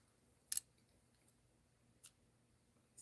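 A couple of sharp, quiet snips of scissors cutting yarn, spaced apart in an otherwise near-silent room.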